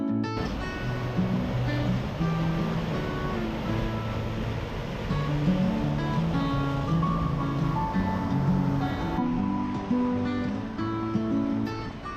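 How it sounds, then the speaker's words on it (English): Whitewater rapids on a river near East Branch Reservoir, a steady close rush of churning water holding at an even level throughout, with no talk. "Sort of a little unexpected treat behind me, some white water."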